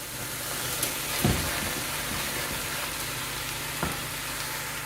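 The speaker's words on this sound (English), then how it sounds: "I'm adding my garlic and my onion, also ground beef, lean ground beef to the pot." Garlic, onion and lean ground beef fry in olive oil in a pot for lasagna, a dense steady sizzle heard up close, broken by a couple of soft knocks from stirring.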